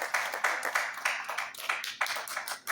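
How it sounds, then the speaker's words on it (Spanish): A church congregation applauds the Lord during a Spanish-language worship service. The clapping is steady and spread out, quiet and a little distant, with uneven bursts and no voices on top. "Denle un aplauso al Señor por la vida de este joven."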